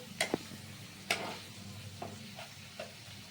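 Ginger being stirred as it fries in a pan, with a soft steady sizzle under a few sharp utensil scrapes and clicks against the pan, close and fairly quiet.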